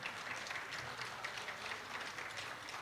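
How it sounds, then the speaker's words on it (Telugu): Audience applauding an orchestra team at a live music event, a steady wash of clapping heard faintly and from a distance, with no voices over it. "ప్లీజ్ ఎవ్రీవన్ నించొని గట్టిగా చప్పట్లు కొట్టాలి మా ఆర్కెస్ట్రా టీమ్కి."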